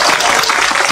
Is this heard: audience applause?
yes